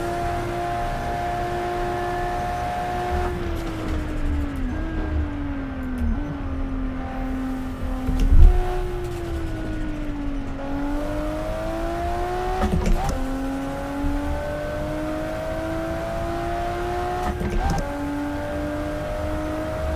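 A Nissan Nismo R33 GT-R, driven in Assetto Corsa, screams at high speed, its engine holding a loud steady tone that rises and dips with gear changes and throttle shifts, with brief thumps as it runs flat out.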